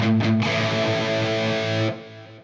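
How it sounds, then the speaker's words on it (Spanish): PRS SE CE 24 Standard electric guitar played through distortion: a couple of quick picked notes, then a thick sustained chord ringing loud and close before cutting off abruptly. "uno puede ir perfectamente con este nivel de distorsión."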